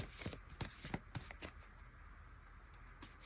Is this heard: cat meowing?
no